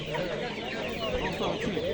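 Roosters and hens at a poultry bazaar in Mingbuloq district, a dense chorus of clucking and chattering birds heard close, with people talking among them.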